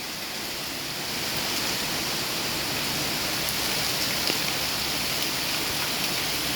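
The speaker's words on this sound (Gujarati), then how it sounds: "જોરદાર વરસાદ ચાલી રહ્યો છે" Heavy late-night rain in Rajkot pours down in a dense, steady hiss that swells slightly after the first second, loud and close with no voices.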